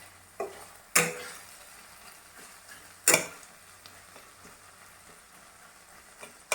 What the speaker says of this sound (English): I'm able to mash them completely, see.